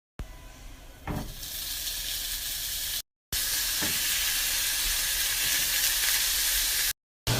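Chorizo with its casing on sears in a hot pan, giving a steady loud hiss and sizzle with a few brief breaks and scrapes.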